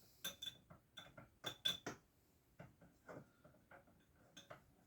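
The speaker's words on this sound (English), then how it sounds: "taking my little spoon, I stir my" A small spoon stirring a traditional pitch salve concoction in a container, giving a series of clear clinks and taps in uneven bursts, close up with no talk.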